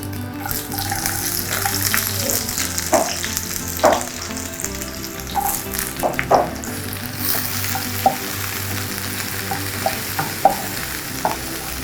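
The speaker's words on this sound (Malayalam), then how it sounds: "അതിനായിട്ട് കടുക്, ചെറിയുള്ളി ഇട്ട് കൊടുക്കുക." Mustard seeds and shallots fry in hot oil for a jackfruit-seed and drumstick avial, with a steady close sizzle punctuated by sharp pops and crackles from the seeds, and no voices.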